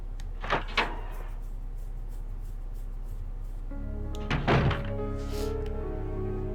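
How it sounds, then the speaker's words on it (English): A door opening in the Resident Evil 2 video game, heard as two soft thunks early on and then a louder mechanical clunk with a short creaking rumble, set over a steady low game hum with no talking. "Maybe I'll open this door."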